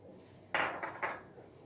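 Poğaça dough ingredients and egg whites being mixed in a bowl: three short, bright bursts of utensil scraping and clatter close by, spaced about a quarter second apart, against quiet room tone.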